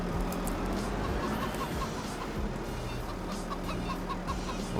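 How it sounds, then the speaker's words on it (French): Chickens on a Farming Simulator 25 farm cluck in scattered, overlapping calls over a steady background hum, moderately close, with no one talking. "Alors, les petites poules."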